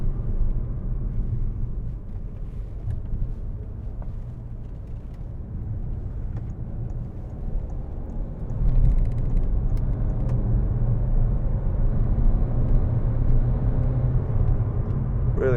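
A 2011 Peugeot 5008 1.6 HDi FAP on the road, heard from inside as a steady low rumble of engine and road noise that swells slightly partway through.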